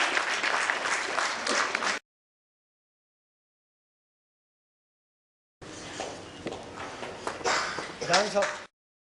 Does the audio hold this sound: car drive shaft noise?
no